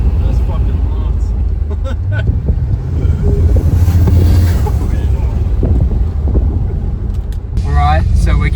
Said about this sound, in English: 700 horsepower LS1. Sounds good.